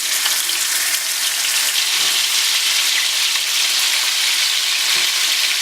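Serrano-wrapped pork tenderloins sear in a hot pan with a loud, dense, continuous sizzle, close and unbroken, with faint occasional knocks beneath.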